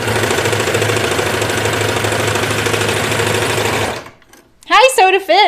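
Loud sewing machine runs steadily while stitching fabric for a T-shirt or pinafore, a rapid mechanical whirring that stops abruptly near the end, followed by a short moment of quiet and then a person speaking.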